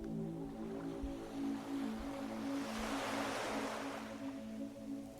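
Gentle sea waves wash in a soft, broad surge that swells and fades over a few seconds, faint and steady beneath a quiet background hum.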